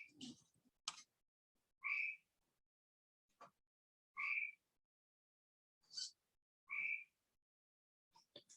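A great tree frog gives short, squawky calls, several separate brief croaks spaced a second or two apart against a quiet background, with a few faint clicks between them.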